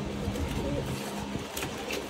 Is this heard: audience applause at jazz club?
no